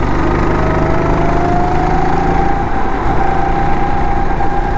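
A 270 cc go-kart engine on a circuit drones steadily and loudly throughout, its pitch rising gradually as it accelerates, with no talking over it.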